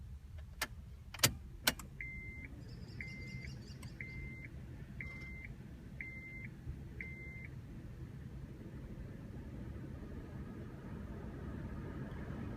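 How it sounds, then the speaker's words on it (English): Ignition key switched off in a car during new key programming: a few sharp mechanical clicks, then six evenly spaced electronic chimes in a quiet cabin. "I'm going to switch the key off."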